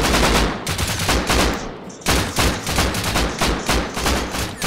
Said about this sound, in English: Well, he is shooting at me.